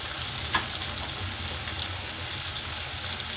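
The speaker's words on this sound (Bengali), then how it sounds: "মশলা খুব ভালো করে কষানো হয়ে গেছে, দেখতেই পাচ্ছেন তেল ছেড়ে দিয়েছে মশলা থেকে" Spice masala of turmeric, chilli, coriander and cumin powders frying in oil, giving a steady close crackling sizzle throughout with one brief clink early on, no talk.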